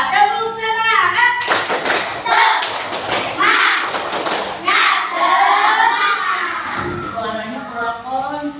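A class of children does a rhythmic spirit clap, with bursts of patterned clapping between stretches of children's voices chanting and talking close by.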